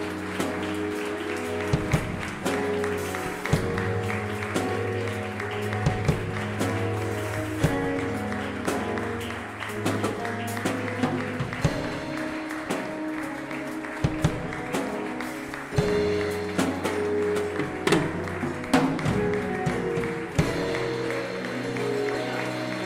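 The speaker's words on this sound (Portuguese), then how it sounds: "Aplauda ao Senhor" Church congregation applauding during a worship service, a continuous wash of clapping layered over sustained music and singing, steady and fairly loud throughout.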